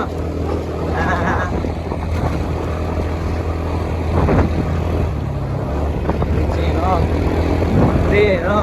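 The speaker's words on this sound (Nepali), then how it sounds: "मेरो साउन्ड सुनेको छैन होला होइन बाइकको आवाजले" A motorcycle engine drones steadily throughout, close and loud, on a village road ride, with someone talking over the noise.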